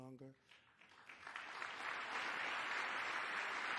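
Applause in the chamber of Congress, a broad wash of clapping swelling after a brief voice and holding steady and fairly distant.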